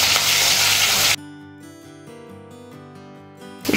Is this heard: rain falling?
no